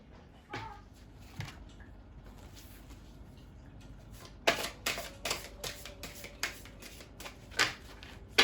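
Tarot cards being shuffled close up, soft riffling at first followed by a run of sharper rhythmic flicks and snaps, quiet and alone without talk.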